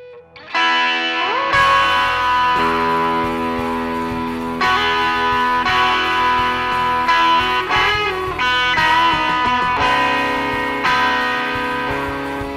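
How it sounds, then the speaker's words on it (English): Electric guitar played through overdrive, a clean boost and a touch of reverb, sustained distorted chords ringing out loudly and changing every couple of seconds, with no talking. "I'm using an overdrive, a clean boost, and just a touch of reverb"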